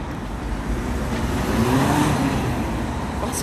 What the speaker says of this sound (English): That's a fast car.